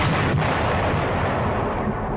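An atomic bomb explosion sound effect, a continuous heavy rumbling roar with dense low-end blast noise, loud and sustained throughout.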